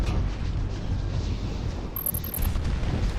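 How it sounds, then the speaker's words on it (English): Unguided bombs dropped on a tank in a mercenary-mode video game, a loud continuous rumbling roar of explosions heard alone with no speech. "So we're gonna now use our special super secret weapon and drop some unguided bombs on it."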